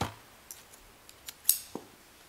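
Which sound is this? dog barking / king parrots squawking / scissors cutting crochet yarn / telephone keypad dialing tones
scissors cutting crochet yarn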